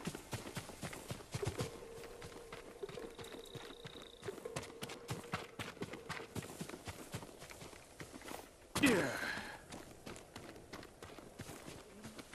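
Hooves clip-clop in the video game Ghost of Tsushima, a quiet, irregular run of footfalls mixed with faint game ambience and a brief louder burst near the end.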